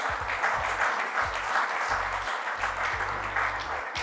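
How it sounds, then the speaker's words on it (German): Applause from the audience at a regional business initiative panel talk, dense continuous clapping at steady volume for the whole stretch, with a few low voices underneath. "ich finde, das ist ein Applaus wert"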